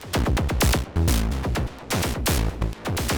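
Percussive synth voice patched in Bitwig's Grid with Valhalla delay, playing a programmed pattern of sharp, rapid plucked hits with short decays, loud and busy, with a few longer tonal notes in between and no talking.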